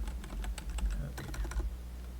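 Quick, uneven keystrokes on a computer keyboard clatter in a dense burst lasting about two seconds, close and fairly quiet, with no voices.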